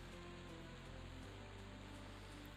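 Steady rain falling across the Plains of Karana in the game Quarm, a dense, even hiss of drops on the ground with a low continuous rumble underneath, no talking.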